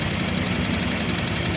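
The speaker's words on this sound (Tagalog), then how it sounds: "So habang nakaandar yung motor," A Honda Click 125i fuel-injected scooter with a check-engine fault and near-overheating idles steadily in a short, dense, continuous running note with no talk.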